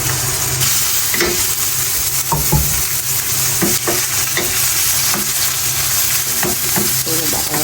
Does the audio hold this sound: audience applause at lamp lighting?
no